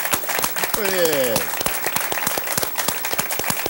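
Audience applause at a cultural event, a dense patter of clapping running throughout, with a voice talking over it near the start.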